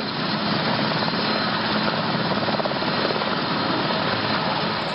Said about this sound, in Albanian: të cilët mbërriten me helikopter